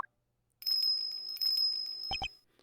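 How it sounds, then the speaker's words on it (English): A small bell on an animal's collar tinkles in a prison setting in Ace Attorney Investigations 2, a bright, high, sustained jingling that swells in two bursts and then gives way to a couple of lower chime-like tones. "What's that tinkling sound?"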